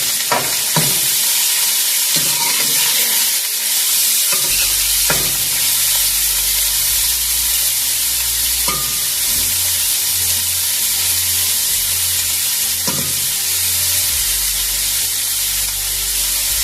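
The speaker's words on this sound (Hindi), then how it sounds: "और प्याज डालकर तो फ्राई कर लेंगे।" Onions frying in hot cooking oil give a loud, continuous sizzling hiss close up, broken by occasional stirring scrapes and clicks against the pan, with no voices.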